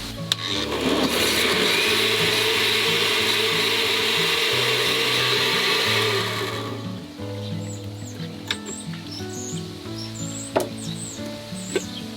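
A kitchen blender whirs loudly and steadily for about six seconds as it purées sugar, salt, eggs and sour cream, then cuts off, leaving quieter kitchen sounds.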